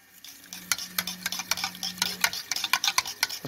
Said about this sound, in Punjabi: ਅੱਛੀ ਤਰ੍ਹਾਂ ਹਿਲਾਉਣਾ ਮਿਕਸ ਕਰਨਾ।